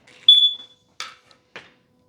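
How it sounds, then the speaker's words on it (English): Battery-less alarms in a home solar system install chirp and beep: a sustained high electronic tone followed by two short harsh bursts, fairly close and alone. "Alarms are starting to go off because they don't have power."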